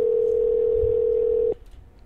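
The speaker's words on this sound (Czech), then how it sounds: "Calling mobile. Voláme telefon." A single steady electronic tone sounds for about a second and a half while a call goes out to a mother's mobile phone, then cuts off abruptly into quiet hiss.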